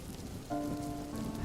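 Storm rain in a Bengali cartoon: a soft, steady hiss of falling rain, fairly quiet, with a sustained tone joining about a third of the way in and continuing to the end.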